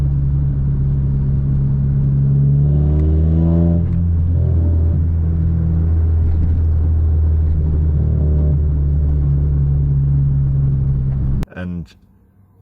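A Nissan Micra with a swapped SR20 engine accelerating hard, a loud, steady low engine drone that climbs in pitch, then cuts off abruptly near the end with a brief sharp noise.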